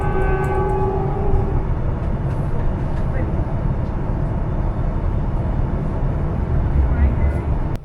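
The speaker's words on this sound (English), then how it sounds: "That train back there was carrying cattle." A Queensland Rail cattle train loaded with livestock rolls past, its loud, steady rumble and rattle filling the whole stretch without a break.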